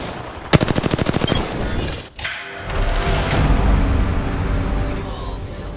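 Rapid automatic gunfire in Apex Legends during a ranked arena match, a loud burst of evenly spaced shots followed by a sharp blast and a sustained rumble of combat noise.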